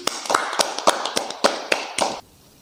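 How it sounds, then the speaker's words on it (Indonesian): Rhythmic hand clapping from a live audience at a comedic Q&A talk show: crisp, evenly paced claps repeating for about two seconds before cutting off to quiet. "Baik tepuk tangan."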